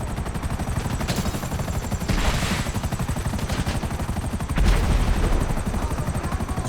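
Flares or bombs dropping from a helicopter in the video game GTA V, loud bursts and popping over a constant rotor drone, with a heavier thump near the end.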